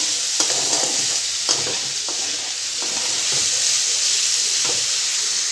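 Vegetables with turmeric and salt fry in a pan while a utensil stirs them, giving a steady close sizzle broken by repeated scraping knocks, with no one speaking.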